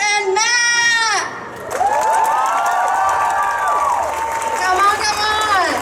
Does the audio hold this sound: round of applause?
yes